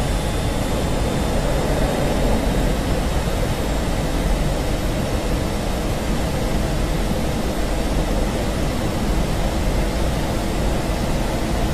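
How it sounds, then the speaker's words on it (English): Wind rushes past an F-16C Viper flying at 200 knots in the DCS flight simulator, a steady broad hiss and roar over a low jet drone that stays even and unbroken throughout. "So listen at 200 knots. How does she sound in terms of wind speed?"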